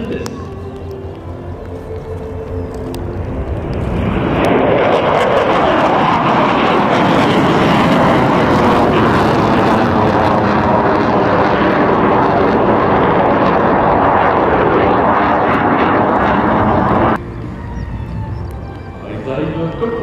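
Military jets of the Couteau Delta tactical display sweep low in close formation at the Saint-Dizier airshow, a roar that builds to a sustained loud blast then cuts off, with an announcer talking over it.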